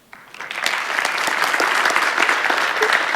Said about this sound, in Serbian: Možda neki aplauz za njega.